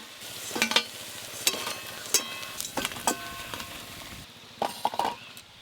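Masoor lentil fritters (bora) frying in hot oil, a steady close crackle with sharper bursts of sizzle and stirring clatter as they are turned, with no voices.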